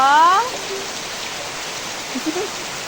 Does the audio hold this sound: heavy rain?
yes